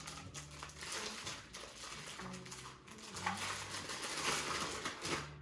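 A whole chicken is stuffed into a Ziploc plastic bag in a kitchen, producing close, irregular crinkling and rustling of plastic with soft squishing, low in level and continuous for several seconds.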